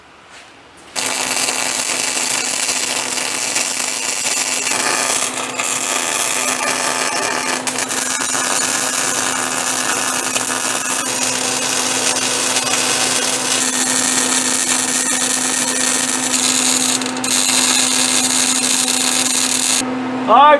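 Welding on the rear end of a car near the fuel line gives a loud, continuous crackling buzz with a steady hum beneath it, running nearly unbroken for about twenty seconds after a quiet start.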